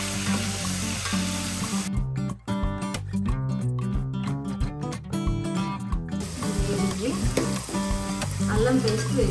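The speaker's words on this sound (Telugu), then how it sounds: "లవంగాలు వేయించుకోవాలి." Cloves frying in hot oil for a prawn curry: a continuous loud close sizzle with rapid crackling and popping, a burst of sharp stirring scrapes in the middle, then steady hissing.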